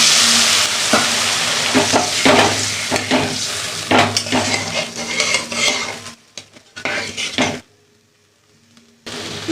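Fish curry gravy with poppy seed and green chilli bubbling and sizzling in a pan, with repeated sharp scrapes and clinks of a spoon stirring, then a sudden drop to near silence before the sizzle returns.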